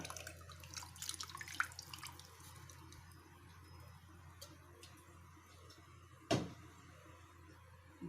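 Strained tamarind water is poured into a pot of barramundi fish curry: a faint, close trickle and splash with a few drips and light clinks in a quiet kitchen.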